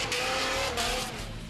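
Dodge Viper Formula Drift car, two-time championship-winning, driving hard with a loud, steady engine roar and hissing tire noise up close, no talk.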